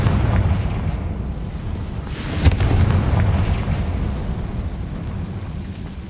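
Confringo blasting spell going off in Hogwarts Legacy, a single loud burst with a sharp crack midway, heard over a steady low rumbling game background.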